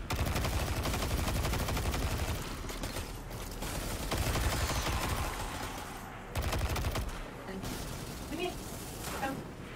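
Rapid automatic weapon fire from the Destiny video game pours out in long, dense, very fast bursts, loud and close, briefly pausing before resuming.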